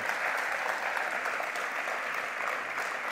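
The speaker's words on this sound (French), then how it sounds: "On peut applaudir cette proposition de loi." Delegates at a party's founding congress give a steady round of applause, a broad even crackle of many clapping hands, somewhat distant and quiet, lasting throughout without speech.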